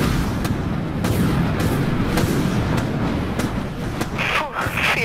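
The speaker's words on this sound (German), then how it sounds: "Torpedos abfeuern" Torpedoes launching from a warship in the naval combat game Dreadnought, heard as a dense, loud rumble of battle noise punctuated by several sharp bursts spread across the clip.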